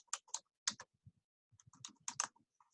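Keys on a computer keyboard are tapped in short, quick clusters separated by brief pauses, close and fairly quiet.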